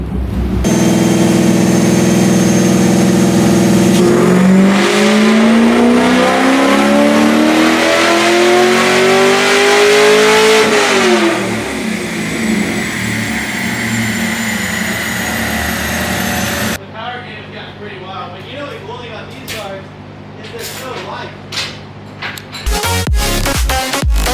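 A Corvette Z06 engine revs hard through a dyno tuning pull, climbing steadily in pitch for several seconds before backing off, loud and close, then settling into a lower rumble with a few sharp blips near the end.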